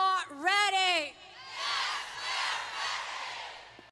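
A crowd at a heifer show event cheers and whoops, opening with a shouted, tonal voice and then a sustained wash of mixed yells and cheering that rises and falls for several seconds.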